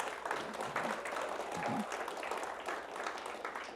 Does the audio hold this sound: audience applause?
yes